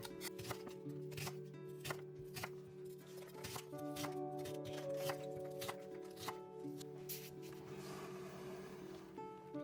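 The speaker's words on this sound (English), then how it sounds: "For the rhubarb, I only peel the tough outer side and then cut it into small pieces." A knife cuts rhubarb into small pieces, a series of quick, close chopping taps on a board, quiet and irregular, with a faint background hum.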